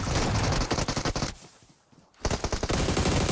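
Rapid bursts of shotgun fire from PUBG Mobile gameplay during a grand finals esports match, loud and dense shots before and after a brief lull of quieter ambience.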